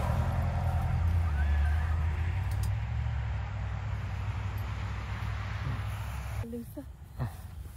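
A horse neighs and whinnies at a horse auction, a rising call near the start amid crowded barn noise with people talking in the background and low rumble throughout.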